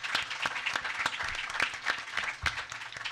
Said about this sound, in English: Let's give a great round of applause to Governor Jack Sperling.